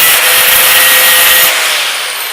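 An angle grinder grinds tack welds off a steel weld table, a loud, close, harsh abrasive whine that holds steady and then eases as the disc winds down.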